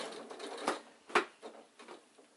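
A sewing machine stitches down the seam of an insulated picnic bag in short, quiet bursts, soft rattling taps with two sharper clicks, close by.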